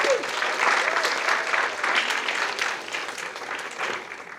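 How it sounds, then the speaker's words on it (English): Sustained audience applause at a school Writers Week event, a steady dense wash of many hands clapping at fairly even loudness throughout. "So a big round of applause for them."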